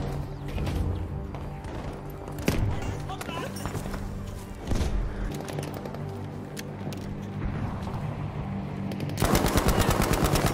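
Battlefield V gameplay with rapid automatic gunfire and scattered single shots, a loud continuous burst near the end, all under a player talking.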